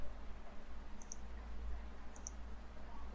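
Two faint, light computer mouse clicks about a second apart, each a tiny double tick over a low steady hum.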